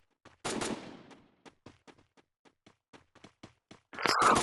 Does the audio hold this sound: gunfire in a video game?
yes